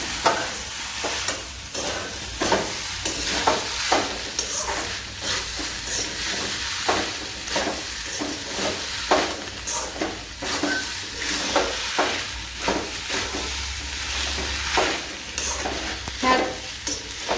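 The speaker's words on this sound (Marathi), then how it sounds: "मिक्स करून घेऊया." Roasted peanut powder and salt being stirred in a pan, a continuous scraping and stirring with rhythmic strokes and a soft sizzling hiss underneath.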